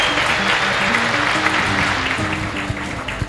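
A crowd applauds loudly and continuously, dense clapping with scattered cheers and whoops mixed in.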